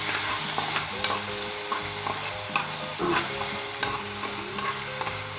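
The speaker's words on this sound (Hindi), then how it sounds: "और इसे 1 मिनट के लिए आप सौते कर लें।" Vegetables with ketchup sautéing in a pan for dry vegetable Maggi noodles, a continuous sizzle with repeated stirring scrapes and clanks, close and alone without talk.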